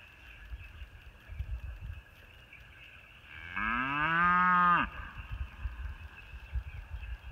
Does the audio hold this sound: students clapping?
no